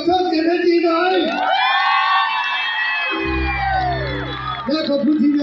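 Concert crowd at a 7 Colors Concert on Tour event at Big C Khon Kaen, with excited fans whooping, cheering and shouting in a loud, continuous wall of voices. Distinct clapping is hard to make out.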